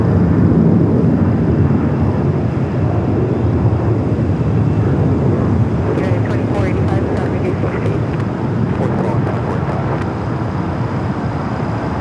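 Philippine Airlines Flight 102 from Manila taxiing toward the west gates at Los Angeles International Airport, a steady broadband jet roar with wind buffeting on the microphone, continuous and fairly loud for the whole stretch, with faint crackles in the latter half.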